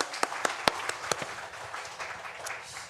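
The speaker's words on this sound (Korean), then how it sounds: "우리 하나님께 영광의 박수 올려드리겠습니다." Church congregation at a Sunday worship service clapping, a few sharp, loud claps at first, then fading into softer, scattered applause.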